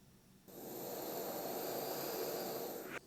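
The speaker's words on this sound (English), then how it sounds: "It's like noisy, high pitch noise, which is not super nice." A jet-style gas burner for brewing Turkish coffee ignites and gives off a steady, high-pitched hissing roar that holds for a few seconds, then cuts off abruptly.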